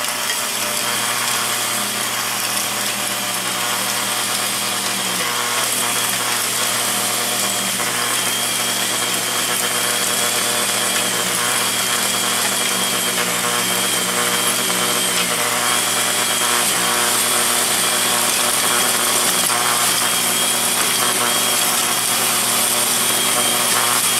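Corded 8.5-amp Ryobi 11-inch electric tiller cultivator churning through soil, a loud, continuous motor whine and grinding that runs unbroken and close, with no talking.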